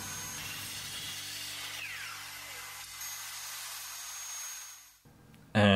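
Power saw cutting maple strips to size in a woodshop, a sustained high whine with a rising and falling tone as the blade passes through wood, ending in a sudden loud clunk.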